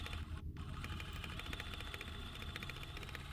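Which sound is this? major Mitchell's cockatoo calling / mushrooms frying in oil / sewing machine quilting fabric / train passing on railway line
sewing machine quilting fabric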